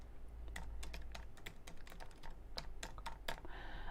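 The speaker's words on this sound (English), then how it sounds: "Hang on, can't type and talk at the same time." Rapid clattering keystrokes on a computer keyboard during a live stream, a steady run of close, distinct clicks with brief pauses and no talking.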